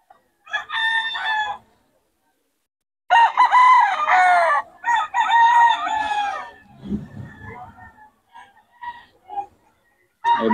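Roosters crow loudly and close at a gamefowl market, two or three full crows in a row, followed by scattered clucks and brief low voices in the background.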